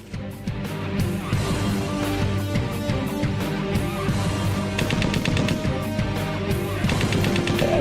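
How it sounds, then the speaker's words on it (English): Rapid bursts of historical aircraft gunfire, recorded in the cockpit, rattle repeatedly over a dense background of music and engine noise, loud and fairly continuous. "also there's gunfire on there as well"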